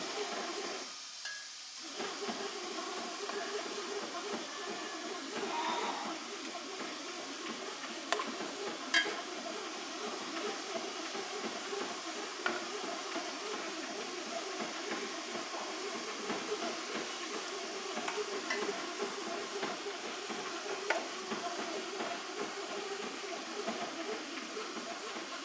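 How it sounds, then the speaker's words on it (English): Water boils at a steady roll in a pressure canner readied for jars of homemade chicken stock, a constant hissing, bubbling rush with faint clicks and knocks throughout. "We've got a boil going in here."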